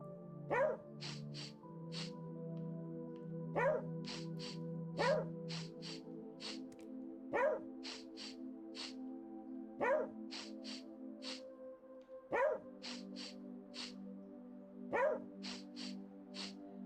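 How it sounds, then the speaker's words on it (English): Short bark sounds from a dog in a video game repeat at steady intervals of about two and a half seconds, each followed by a sharp high chirp, over a continuous game music bed. "There's one bark sound, and there's one sniffing sound"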